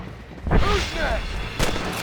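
Gunfire in the Western video game Red Dead Redemption, a couple of sharp shots with a booming report, heard close and loud amid game sound, with a voice and other effects mixed in.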